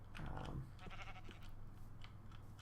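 Sheep bleating in a video game, one clear drawn-out bleat near the start followed by softer clicks and scattered game noise, fairly close and with no talk over it.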